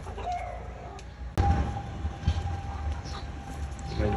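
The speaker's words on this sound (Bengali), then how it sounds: "আর সকাল সকাল মুরগির ডাক" Farm chickens on a rooftop garden in the morning, with a rooster crowing over the flock; a steady bird chorus runs beneath, and an abrupt louder burst cuts in partway through.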